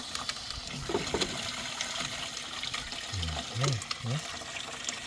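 Strong water gushes from a tap in a steady, loud rush, with voices talking over it partway through.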